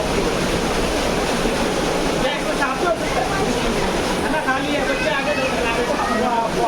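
Sahastradhara waterfall in Dehradun, Uttarakhand, pouring in a steady loud broadband rush of falling water with wind buffeting the microphone, while people talk over it.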